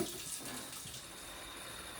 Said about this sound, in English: I'm going to go ahead and fill up my jug with water.